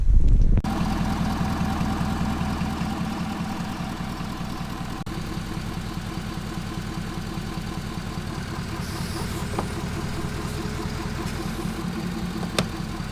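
A lifted truck on 37-inch tires idles with a steady low rumble and a faint, even knock. The engine runs close by and unbroken throughout, with no talk over it.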